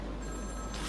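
A telephone ringing inside a Batman video game, a short steady electronic ring heard over a constant game background hum.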